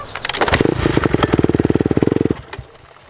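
A dirt bike engine barks into life and revs in a rapid pulsing burst before a backyard freestyle ramp jump, loud and close, then cuts off abruptly.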